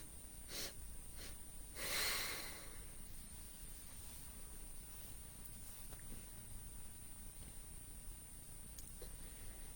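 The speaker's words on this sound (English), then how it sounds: "4 sniffs in, 1 sniff out." A person does segmented nasal breathing, a set of short sniffs in followed by a single sniff out, quiet and close with one stronger burst of breath, over faint background hiss.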